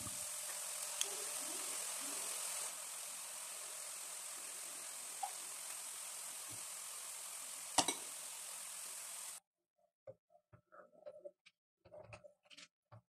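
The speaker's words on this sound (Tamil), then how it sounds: "இப்போ நான் ஒரு கரண்டி வச்சு கடலை மாவு ஆட் பண்ணிக்கிறேன்." Gram flour boondi batter fries in hot oil, a soft steady sizzle with faint bubbling that runs for most of the stretch, then cuts off, leaving a few scattered light clinks and taps near the end.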